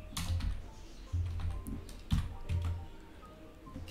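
A DAX formula is typed on a computer keyboard, with irregular soft key clicks and a few sharper taps in quick uneven bursts, close and fairly quiet, with no voices.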